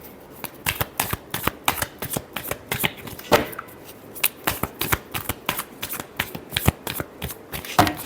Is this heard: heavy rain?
no